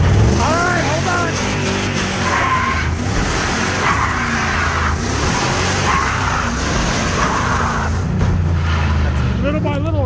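Pickup truck engine revving hard and loud through a neutral drop, a continuous strained roar with skidding-like grinding as the muffler falls off, while people talk and shout over it.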